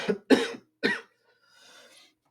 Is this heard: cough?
yes